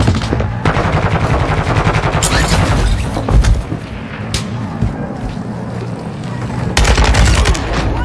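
Bursts of RPK light machine gun fire in Warzone 2, loud and dense, with rattling volleys near the start and again close to the end amid battle noise and booms.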